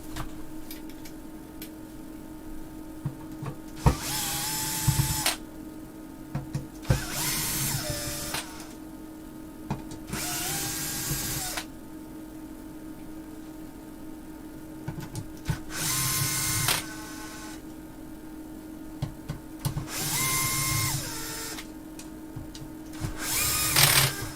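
An electric screwdriver with a small head works on an old Earthquake amplifier, sounding as about six short whirring bursts separated by quiet pauses, over a steady low hum, nearby and without voices.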